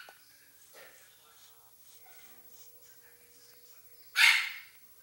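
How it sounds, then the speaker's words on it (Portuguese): Early in the morning a dog gives a single sharp bark near the end, loud and close after quiet stretches with faint murmuring voices in the background. "Mas que cachorro infernal que é esse de latir nessa hora da manhã?"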